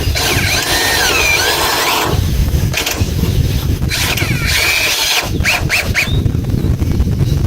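A power drill drives a long lag screw into a sliding barn door, whining loudly in bursts that bog down, stop and start again, close by.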